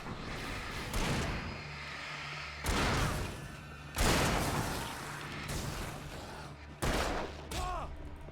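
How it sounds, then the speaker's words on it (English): Gunfire in the video game Alan Wake: several loud, separate shots and bursts spread across the stretch, each sharp thump trailing off into a busy backdrop of game noise and music. "I guess we're doing some shooting now"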